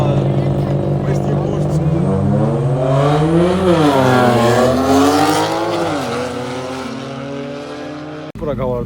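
Modified Porsche and Mercedes drag race cars rev loudly and accelerate hard side by side, their engine notes rising and shifting through gears over a sustained roar, with people talking over it and a sharp cut near the end.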